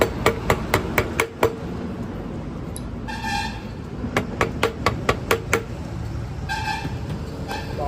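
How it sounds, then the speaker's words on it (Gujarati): A hammer taps a nut and washer onto the front wheel axle of a BS6 TVS Jupiter 125 scooter during a bearing replacement, sharp metallic strikes in quick runs with a brief ringing pause between. "નટ ચડાવીને આપણે એક્સલ પર ઠોકીશું"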